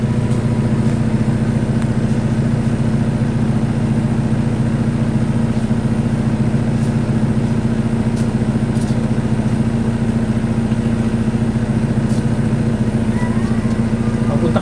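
A steady, low Honda Civic engine idles close by with a constant rumble and an even pitch. No revving, and no voices.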